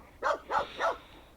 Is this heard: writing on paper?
no